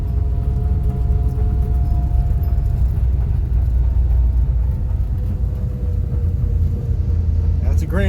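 A vehicle rolls downhill in first gear with two-wheel drive engaged, a constant low engine rumble and drivetrain drone running loud and close throughout, with a short squeak near the end.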